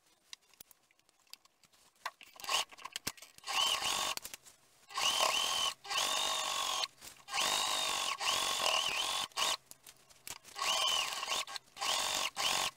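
A sewing machine stitches around a trouser casing in repeated whirring runs of a few seconds each, separated by short pauses and small clicks, close and clear with no talking.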